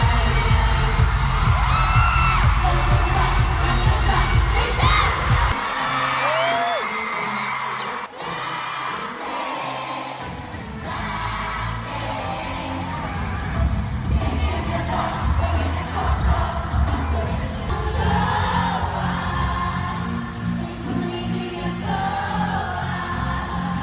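Fans at a concert in the Philippines scream loudly and continuously, high shrieks layered over thumping bass music, with a sudden drop partway through before the frenzied screaming swells again.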